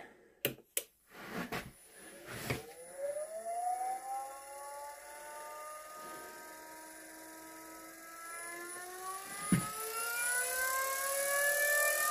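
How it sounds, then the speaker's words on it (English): The motor of a Rikon 70-220VSR lathe runs with its belt removed, starting after a few sharp clicks and then winding up into a rising whine that climbs and steadies as the speed builds, with no talking. "I actually took the belt off. That way that the motor can fire up."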